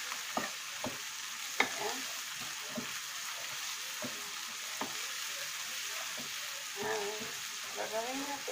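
Pork adobo ingredients being stirred in a frying pan, with soft scraping strokes and clicks over a steady quiet sizzle, a faint voice briefly in the background.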